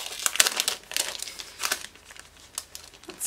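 Plastic packaging crinkles and crackles in close, uneven bursts as puffy sticker titles from a Fancy Pants scrapbooking box are pulled out, with no talking.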